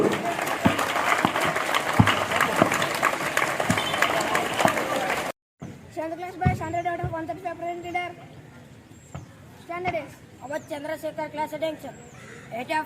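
Audience at a school Independence Day celebration clapping loudly for several seconds, then the applause cuts off and a voice speaks over light background noise.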